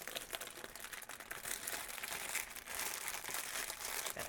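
Paper wrapper being folded around a handmade exploding bon-bon sweet, giving steady close crinkling and crumpling that runs continuously with small crisp rustles throughout.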